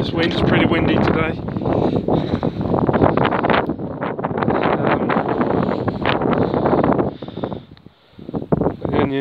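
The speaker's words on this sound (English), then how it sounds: "hold it down in this wind. It's pretty windy today." Strong wind buffeting an allotment garden, a loud continuous roar with gusty surges and microphone rumble, while someone speaks over it.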